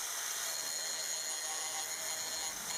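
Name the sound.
grinder grinding lopper blades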